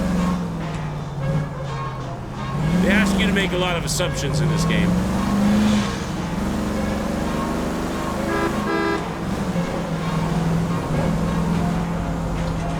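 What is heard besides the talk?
stolen car driving in video game L.A. Noire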